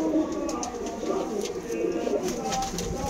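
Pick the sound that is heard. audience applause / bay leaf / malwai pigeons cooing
malwai pigeons cooing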